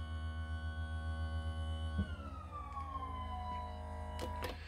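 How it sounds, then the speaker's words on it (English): Hydraulic motor raising RV leveling jacks, a steady droning whine with layered harmonic tones that shifts lower in pitch partway through, a couple of brief clunks near the end, fairly quiet and without talk. "And listen to the hydraulic motor."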